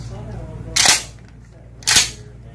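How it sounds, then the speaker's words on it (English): A shotgun fires twice about a second apart, each a loud, sharp bang with a short decaying tail, over low background hum. "you pull the trigger, it's going to go bang"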